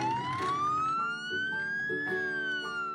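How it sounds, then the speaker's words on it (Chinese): Siren of an assembled Lego-style toy fire truck, a continuous electronic wail that rises slowly and falls back, loud and close, with clicks and rattles of plastic pieces underneath. "消防车拼装完成，出发去灭火喽！"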